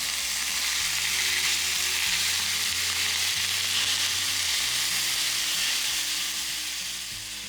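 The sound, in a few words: ground beef and onion browning in a pan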